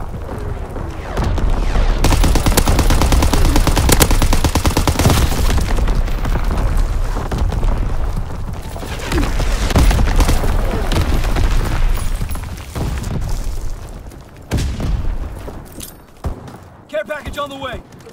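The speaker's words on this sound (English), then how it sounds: "Incoming enemy artillery." Artillery blasts and gunfire in Call of Duty WWII on a Blitz-style map, with dense rumbling booms and crackling shots that swell and fade across the stretch, several sharp bursts near the end, and game voices speaking amid the din.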